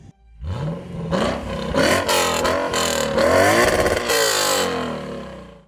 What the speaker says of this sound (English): that IS500 sounds pretty good. It does, because it doesn't have a stock exhaust.